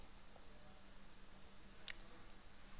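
A single crisp computer mouse click sounds faintly over a low steady room hum, with nothing else around it.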